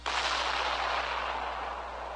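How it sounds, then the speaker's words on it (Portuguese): A controlled blast during construction of a huge hydroelectric dam, one heavy, sudden boom followed by a long, broad rumble that fades slowly, with no talking. "Centenas de explosões controladas"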